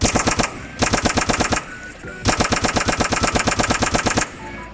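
Rapid automatic bursts of M4 rifle fire in the GTA San Andreas multiplayer game, three loud close strings of shots separated by short pauses.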